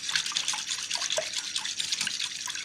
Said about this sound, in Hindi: अच्छी तरह मिक्स करना है। देखिए उसकी झाग आनी शुरू हो गई है।